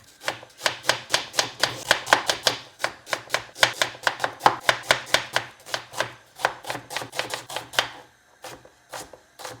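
A knife thinly slices four medium onions on a board. The chops are rapid, even and close, running in a steady rhythm with a short pause before a few final strokes, and no one speaks.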